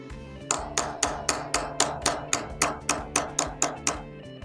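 A hammer taps a brass punch against the male dovetail of a pistol sight on an S&W Bodyguard 2.0, striking about a dozen times in a steady, even rhythm, each hit a sharp, close metallic ping.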